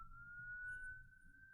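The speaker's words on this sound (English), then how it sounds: "Sirens on my end." A faint, distant siren holds a steady high wail that rises slightly in pitch, with a soft low rumble underneath.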